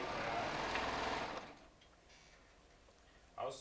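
A serger runs in a fast, steady mechanical whir while stitching jelly roll, layer cake and charm quilt squares, then stops and leaves near quiet before a short burst resumes at the end.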